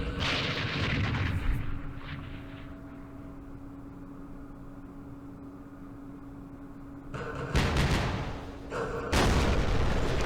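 Artillery fire in the Vietnam war game Campaign Series Vietnam opens with a heavy rumbling blast that fades into a low hum, then two more loud, close booms strike near the end.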